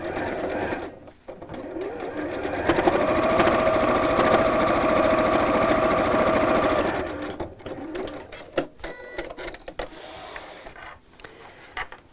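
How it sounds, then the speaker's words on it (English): A sewing machine stitches around the edge of a fold-over tie purse in one steady, close, mechanical whir lasting several seconds, framed by quieter handling and rustling of fabric. "I'm going to sew all the way around the edge"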